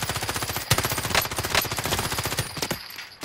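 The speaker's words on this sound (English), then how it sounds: "Under hostile fire." Rapid automatic gunfire in Call of Duty: Modern Warfare, a loud close stream of evenly spaced shots broken by a few heavier bursts, ending in a short lull.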